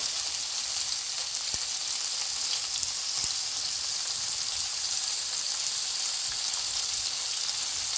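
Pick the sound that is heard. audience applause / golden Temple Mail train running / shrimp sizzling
shrimp sizzling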